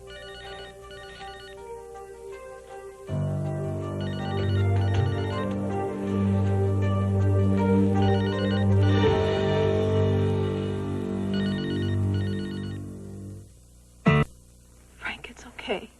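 A cell phone rings in a steady, repeating electronic tone for several seconds, loud and close, then cuts off, followed by a brief sharp knock and faint movement.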